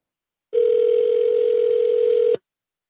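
A steady telephone tone sounds on a call just before it goes to voicemail, one clean, flat beep holding for about two seconds and then cutting off sharply, with silence on either side.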